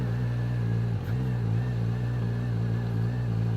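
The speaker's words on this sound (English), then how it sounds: "And now it is time for me, of course, to start the bike." An SRK 900 RR motorcycle engine running at a steady idle, a close, loud, even low rumble with one brief dip partway through and no talk over it.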